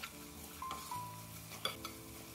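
Spoon stirring turmeric, chili powder and roasted curry powder into a pan of cooking for a green apple curry, a quiet scraping with faint sizzle and light clinks of utensil against the pan.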